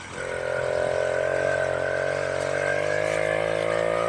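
Small 1968 Clark Scamp 49cc two-stroke moped engine held at a steady high rev by a sticking throttle, a loud continuous buzzing drone with no letup.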